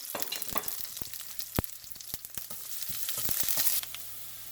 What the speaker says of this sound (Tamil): வெங்காயம் பச்சை மிளகாய் கருவேப்பிலை எல்லாத்தையும் நல்லா வதக்கிடுவோம்